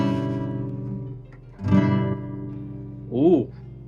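Guitar chords strummed and left to ring, moving into a G6 shape, with a brighter accent midway and a short sliding bend near the end, close and clear with no voices.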